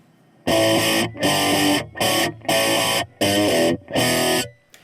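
Distorted electric guitar chords through an acoustic guitar impulse response on an Axe-Fx, strummed in six loud bursts with short gaps, the tone boxy and hollow like an acoustic body, ringing bright and harsh.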